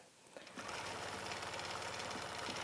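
A sewing machine stitches a minky quilt along a spoon foot, running steadily and close for most of the stretch after a brief quiet start.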